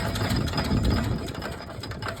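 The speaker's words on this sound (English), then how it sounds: "This display engine shows people how a gas engine works." A small gas display engine with an exposed crank, cam and small carburetor runs at a steady idle, giving a close, dense, continuous chugging rattle with no talking.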